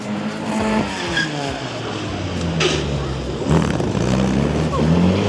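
A lightweight Metro, under half a tonne with over 100 brake horsepower, revs hard as it circles at a motor museum show, with tyre squeal, changing engine pitch and grinding gear changes, loud and close under a commentator's voice.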